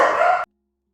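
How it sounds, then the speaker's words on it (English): Dog barking in a room where four dogs live, one short loud burst close by that cuts off abruptly, followed by silence. "Sorry about that, I have 4 dogs."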